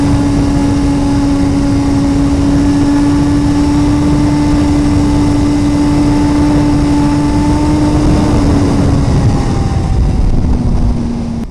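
A 2017 Suzuki GSX-R1000R motorcycle engine drones steadily at a constant pitch while riding, with continuous loud wind rush, the tone dropping slightly near the end as a gear shift happens.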